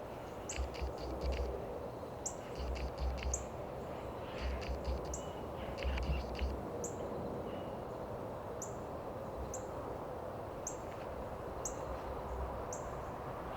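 Faint outdoor ambience picked up by a sensitive stereo microphone, with small birds giving short, high chirps at regular intervals over a soft, steady hiss and a few low bumps early on.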